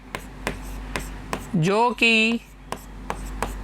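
Regular scratching strokes of chalk or pen writing on a board during a maths lesson, evenly spaced rubs, interrupted midway by a short spoken voice.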